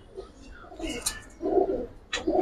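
A pair of red-geared Bagha pigeons coos in short soft bursts, close by, with low throaty pulses separated by brief pauses and faint background noise.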